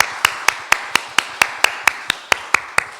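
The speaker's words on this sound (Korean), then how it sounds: "이들을 위해서 감사의 박수 한번 하겠습니다." Congregation in a Korean church service clapping together in a steady, evenly spaced rhythm, about thirteen sharp claps over three seconds, clear and close with no talking.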